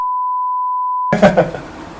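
A single steady electronic beep on a phone rings out clean and loud for about a second, then stops abruptly and gives way to brief muffled rustling noise.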